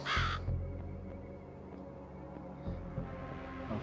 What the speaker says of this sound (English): you hear just the distant cawing of a crow